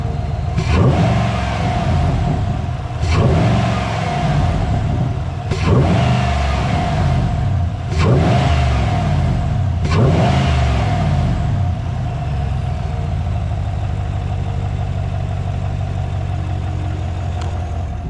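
A 2021 Chevrolet Silverado with an S&B cold air intake revs hard five times in a steady rhythm, each loud burst of engine roar dropping back before the next, then settles into a steady idle rumble.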